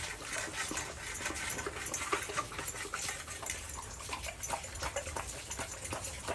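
Several Cane Corso dogs eat boiled meat close by, with continuous wet chewing, lapping and smacking sounds and faint whimpers, without talk.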